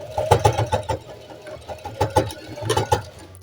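A domestic sewing machine backstitches firmly at the end of a seam on cotton panties, its needle chattering in quick, rhythmic bursts that stop and restart, close and fairly loud.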